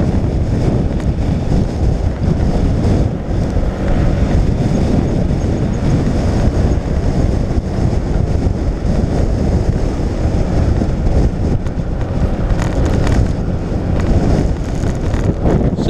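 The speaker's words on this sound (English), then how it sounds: "as I go across into Blackfriars Bridge into what's now an annoying wind" Strong wind roars steadily across Blackfriars Bridge in London, loud and continuous, buffeting the microphone for the whole stretch with no speech.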